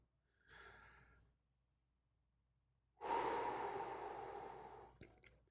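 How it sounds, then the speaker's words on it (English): Two slow, deep breaths taken as a morning breathing exercise: a softer inhale, a pause of near silence, then a long, louder, airy exhale close to the microphone. "First, I sit for 10 to 15 minutes and do some deep breathing."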